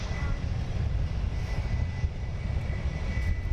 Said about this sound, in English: we're gonna get the Wizz Air going out. Going along the new taxiway here at Luton.